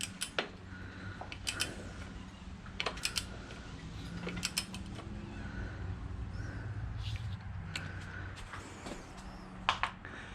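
A wrench loosens a front fork bolt on a WR400F motorcycle with a series of close metallic clicks and ratcheting ticks, spaced irregularly over low background hum, with no talking.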